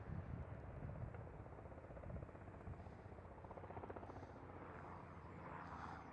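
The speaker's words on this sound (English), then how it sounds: "Yeah, that's an R44," A Robinson R44 light helicopter passes near Amsterdam Schiphol airport, its steady rotor chop and engine drone holding at moderate volume throughout with no talk.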